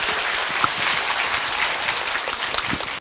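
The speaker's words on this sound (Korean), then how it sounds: "박수 한번 쳐주세요." Audience applause at a lecture by Professor Kim Chang-ok, a steady dense wash of clapping filling the whole stretch at even loudness, no voices over it.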